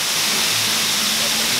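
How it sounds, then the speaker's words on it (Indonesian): The 600-metre Timponan waterfall roars as a loud, steady wall of rushing water, close by and unbroken throughout. "di belakang saya air terjun Limponan ini tingginya 600 meter sampai ke bawah,"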